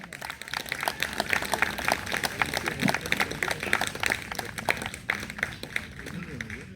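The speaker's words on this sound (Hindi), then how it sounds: "भरपूर तालियों से इस्तकबाल कीजिए लेडी कोऑर्डिनेटर सिंध जनाब मिसेस तमीना रबानी साहिबा।" At an anniversary ceremony, a crowd gives hearty applause to welcome the lady coordinator for Sindh, sharp claps rattling steadily throughout while people talk over them.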